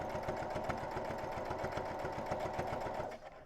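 A sewing machine stitches the last side of a reusable makeup remover pad, its needle running in a fast, even mechanical chatter up close before slowing and stopping at the end.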